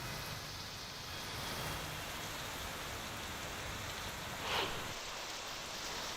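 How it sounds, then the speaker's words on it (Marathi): Heavy monsoon downpour in Lonavala, heard as a steady, dense broadband wash of rain with a brief louder swell near the end and no voices. "गेल्या काही दिवसांपासून सुरू असलेल्या मुसळधार पावसामुळे लोणावळ्यात विक्रमी पावसाची नोंद होत असून"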